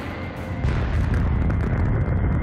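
Nuclear bomb exploding in space, rendered as a deep, sustained rumbling boom that swells after a brief lead-in and holds loud and dense to the end with no voices.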